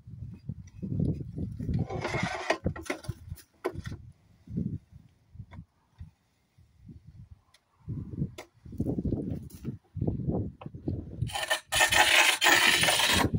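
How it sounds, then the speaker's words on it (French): Ruby TS50 manual tile cutter scoring a tile, scraping and rubbing strokes in bursts separated by pauses, near and moderately loud, ending with a brighter grinding stretch. "Je trace avec ma carrelette Ruby TS50."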